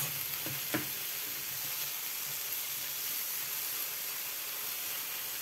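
Onions fry with chicken in a pan, giving a steady, even sizzle and hiss throughout, with a couple of faint utensil knocks near the start.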